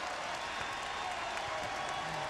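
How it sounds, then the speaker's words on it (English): A home crowd at a 2006-07 college basketball game between West Virginia and Connecticut rises in a standing ovation, producing a dense, steady roar of applause and cheering that stays loud throughout. "A standing ovation from the big crowd."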